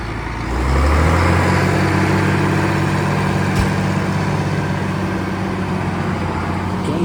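A 1939 Allis-Chalmers UC tractor at a power-from-the-past parade in Greensburg, Indiana, its engine idling in a loud, steady low rumble close by, with no talk.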